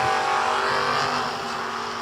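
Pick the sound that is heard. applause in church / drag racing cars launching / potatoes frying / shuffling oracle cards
drag racing cars launching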